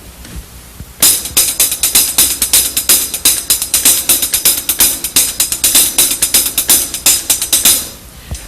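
Paradiddle sticking on a hi-hat in a drum lesson, a steady stream of crisp closed-hat strokes with regular accents, starting after a second of near silence and running alone for about seven seconds before stopping.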